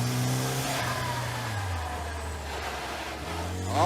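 A muscle car roars down a race track, its engine note climbing, dropping as it shifts, then climbing again in a loud, close, continuous drone.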